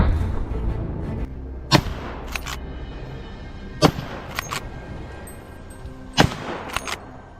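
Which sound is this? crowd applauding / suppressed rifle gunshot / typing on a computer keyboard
suppressed rifle gunshot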